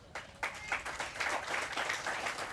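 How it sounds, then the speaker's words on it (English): An audience at the 2021 Tennis Hall of Fame ceremony breaks into a round of applause that swells from scattered first claps into a steady, dense ovation lasting the whole stretch. "I think he deserves a round of applause."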